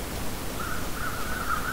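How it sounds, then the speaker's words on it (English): A faint, steady high-pitched calling of crows cawing far off in the video game The Long Dark drifts in from a distance over a low, noisy outdoor ambience. "I can hear crows."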